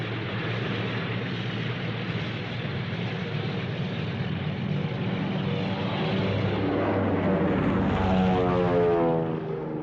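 Droning engine roar of a twin-engine Messerschmitt fighter aircraft, loud and sustained with a steady rumble that swells slightly toward the end, no voices.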